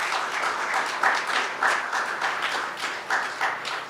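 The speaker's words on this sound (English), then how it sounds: "big round of applause" Warm round of applause from an audience at a memorial tribute gathering, many hands clapping steadily at a moderate level with small swells, continuing without pause.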